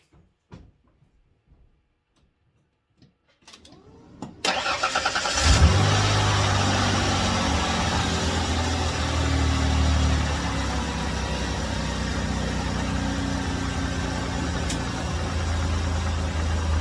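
A 1991 Ford Ranger XLT engine cranks over briefly after near silence, catches and starts, then settles into a steady, even idle heard close up for the rest of the clip.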